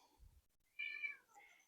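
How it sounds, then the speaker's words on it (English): Two house cats fighting give out a single strained, wailing meow with a faint low thump before it, heard indoors and fairly quiet. "my cats are fighting"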